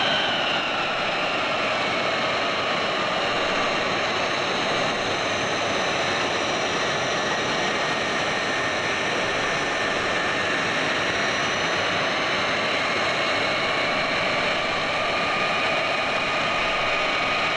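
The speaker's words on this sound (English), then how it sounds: "you notice the Globemaster flying over our heads right now?" A Globemaster military transport aircraft passes overhead with a steady, loud jet-engine roar that holds throughout and shifts slowly in pitch, broad and continuous with no speech.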